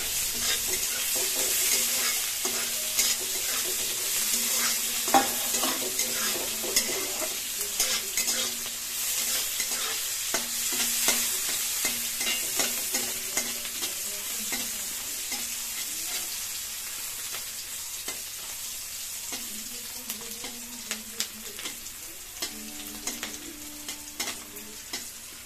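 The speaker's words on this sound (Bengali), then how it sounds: "এখন জাস্ট একটুখানি খুব সুন্দর করে একটু নাড়িয়ে চাড়িয়ে নেবো খুন্তি দিয়ে।" Cumin and bay leaves frying in a pan are stirred with a spatula, giving a steady close sizzle with repeated scraping strokes and light clinks for the whole stretch, no voices.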